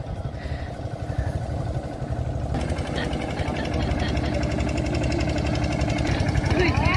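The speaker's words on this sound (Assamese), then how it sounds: "এইখন নাও আহিছে আমাৰ ফালেদি" A boat engine draws closer across the open water of Sonbeel lake in Assam, a steady mid-pitched motor drone that swells in loudness with a rough, knocking throb, while people talk nearby.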